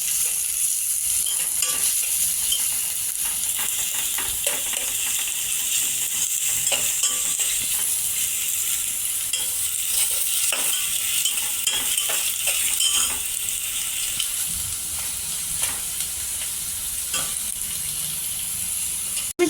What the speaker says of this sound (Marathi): तर आपण टाकून घेऊया कांदा छान असा हलवायचा